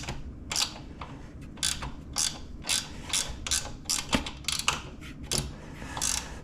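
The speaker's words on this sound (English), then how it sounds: "there's a 12mm bolt that bolts right to the frame that needs to come off" A ratchet wrench loosens the 12mm frame bolt under the fairing of a Yamaha Tenere 700, giving bursts of rapid, close pawl clicking with brief pauses between strokes and the occasional sharper metallic tick.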